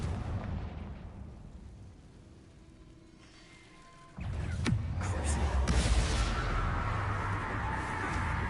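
A Confringo fire-blast spell in Hogwarts Legacy bursts in suddenly after a quiet lull, then rolls into a loud, sustained fiery roar with crackling bursts.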